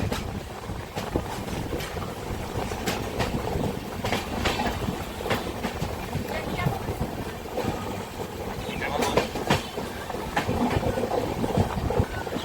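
The Kamrup Express rolls steadily around a long curve, its wagons giving a continuous rumble with rhythmic clickety-clack of wheels on rails, heard from inside the carriage under faint background voices.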